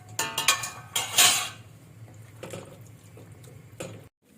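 Pot and lid clatter as a pot of green beans cooking in sauce is covered for low simmering: several sharp clinks and scrapes of metal in quick succession, then quieter scattered knocks near the microphone.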